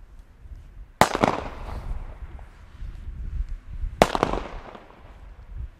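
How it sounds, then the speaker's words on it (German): Two sharp New Year's Eve firecracker bangs about three seconds apart, each followed by a crackling, echoing tail outdoors. "Zünd den Knaller!"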